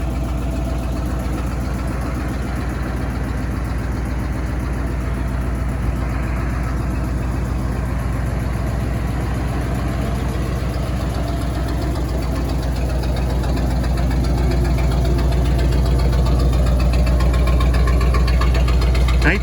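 A 1946 Ford logging truck engine idles steadily nearby, giving a loud low rumble with an even, rapid firing pulse that holds through the whole stretch and swells slightly toward the end.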